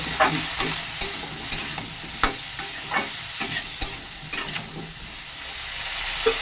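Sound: stirring fenugreek leaves and winter vegetables in pan

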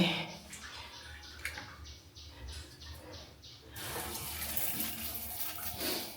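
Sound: shower water running at campsite

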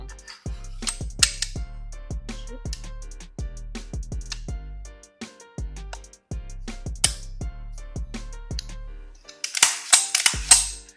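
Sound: inserting bolt carrier into CMMG Dissent 5.56 rifle

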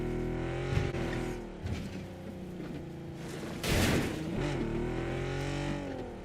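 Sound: armored personnel carrier (BTR) driving in PUBG video game

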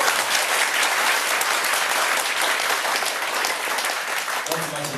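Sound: audience applauding warmly

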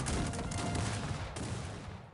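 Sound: cannon fire in the video game Cossacks 3

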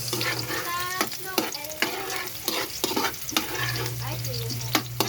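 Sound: garlic and onion sautéing in a pan

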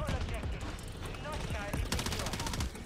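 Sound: gunfire in Call of Duty video game

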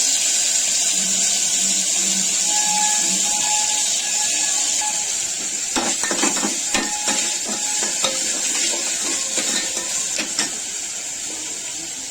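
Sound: spices sizzling in hot oil

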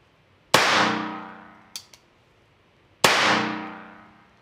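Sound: gunshots from a Bond Arms .22 LR pistol

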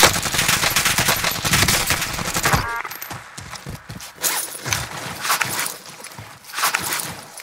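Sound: gunfire in Call of Duty Warzone video game

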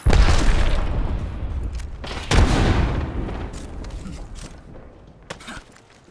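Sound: frag grenade explosion in video game Apex Legends

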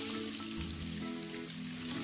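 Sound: prawns marinated, frying in ghee in a pot

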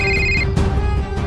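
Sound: telephone ringing

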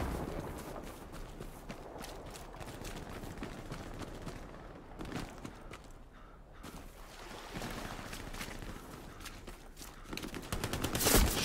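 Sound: machine gun fire in Hell Let Loose video game

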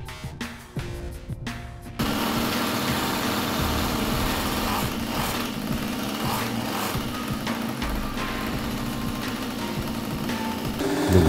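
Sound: Peugeot 103 moped engine running

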